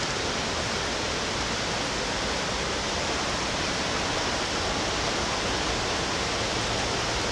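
Heavy downpour over a swollen, flooding river in the Great Smoky Mountains near Gatlinburg, heard as a loud, steady broadband roar of rain and rushing water with no pauses.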